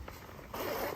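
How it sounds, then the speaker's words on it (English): A zipper runs along the fabric annex walls of a StarVision CX3 Pro camping tent. There is a faint pull first, then a louder, steady zip that lasts about half a second. "and then I can just zip the walls in"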